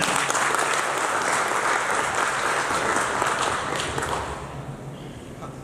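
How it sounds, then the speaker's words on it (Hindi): Loud, dense applause from an audience at a Raipur, Chhattisgarh business event, a continuous roar of clapping that holds steady and then eases slightly toward the end. "जोरदार तालियां हो जाए।"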